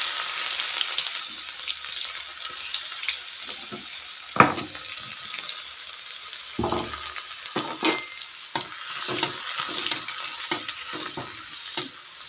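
Garlic and cumin fry in a pan with a soft sizzle, broken by scattered sharp clicks and scrapes of a spoon stirring against the metal, and no talking.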